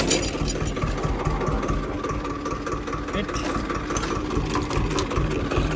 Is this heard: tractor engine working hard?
yes